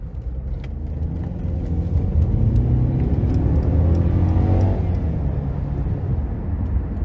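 A 2018 Mercedes-Benz GLC 300 4MATIC drives in Sport Plus mode, a loud continuous low engine and road rumble that swells slightly as it accelerates, heard from inside the cabin.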